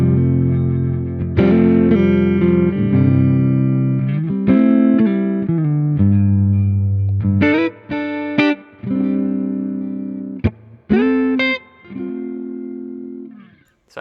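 Electric guitar through a tube amp set with extra bass and mids up, playing sustained overdriven chords and riffs with warm distortion, some notes ringing long and others cut short by pauses, loud and close with no talking.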